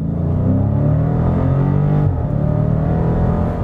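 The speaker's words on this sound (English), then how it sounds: "you can go into launch control, activate it, it'll launch at 2300 RPM" A 2020 Dodge Challenger Scat Pack Widebody 392 roars hard off the line under launch control, its engine holding a loud, steady low growl that climbs briefly, dips at a shift and pulls on through the run.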